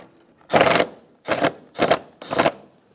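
A ratchet snugs down the airbox bolts on a 2007-2011 Toyota Camry, giving four short, loud bursts of rapid clicking close by with brief pauses between them.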